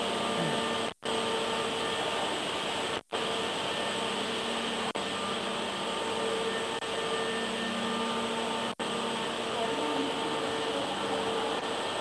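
An automated edge banding workstation runs steadily as a workpiece passes through, giving a loud continuous mechanical hum and whir with brief cutouts and a few faint clicks, no talk.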